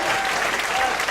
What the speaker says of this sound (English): I would like you to also give a big applause for this venue.